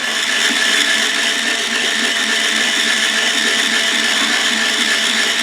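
A powered string winder whirs continuously while winding nylon strings onto the tuning posts of a 1986 Ibanez GA150S classical guitar, a steady, close, high-pitched motor buzz with no pauses.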